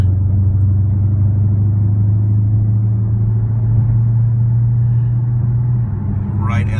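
Dodge Charger Scat Pack accelerates in sport mode, heard from inside as a loud, steady low engine rumble and drone that holds for several seconds before easing slightly, with a brief high sound near the end.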